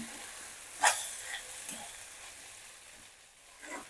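Pieces of arbi (taro root) frying in a pan, heard as a faint, steady sizzle with one sharp spoon click and a few soft stirring knocks.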